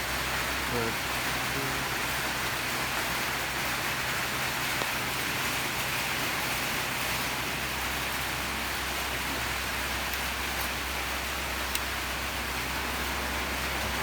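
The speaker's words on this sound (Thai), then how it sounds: "ตอนนี้ก็ฝนตกแล้วครับ บรรยากาศฝนตก" Steady rain falls outdoors, a dense continuous hiss of drops on surfaces that carries on evenly throughout, with no breaks or other sounds standing out.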